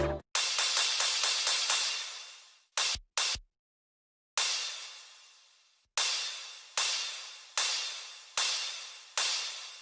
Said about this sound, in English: I also add a crash to make the drop worth it.